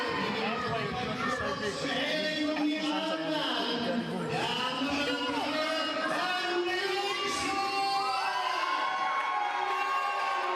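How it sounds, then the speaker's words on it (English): Crowd at a motorsport event, a Boneshakers versus Mansaw matchup, cheering and shouting in a dense, continuous roar of voices with whoops and scattered shouts rising throughout. "I think it's safe to say the crowd well and truly behind the team of Mansaw."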